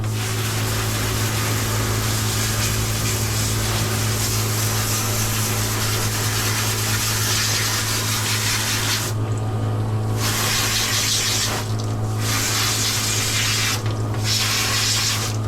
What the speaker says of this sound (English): Give you a rinse off, huh?